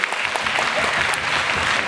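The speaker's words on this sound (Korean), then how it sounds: "저 박수 안 나올 줄 알고 멘트 준비했는데 필요 없을 것 같습니다." Audience applause at a humanities reading talk, steady dense clapping filling the whole stretch, loud and close with no pauses.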